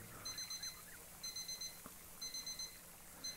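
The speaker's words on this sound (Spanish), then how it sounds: "vamos a apagar el despertador" Alarm clock ringing in the video game Stifled, quiet bursts of rapid high electronic beeps repeating about once a second, with a faint thump between groups.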